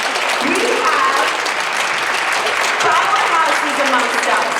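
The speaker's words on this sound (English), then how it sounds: "Don't stop clapping" Dense, steady applause from a large audience at a women-CEO networking event, a continuous wash of clapping hands held at an even loudness for several seconds with no voices rising above it.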